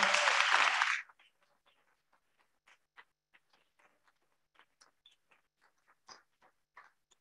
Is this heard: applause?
yes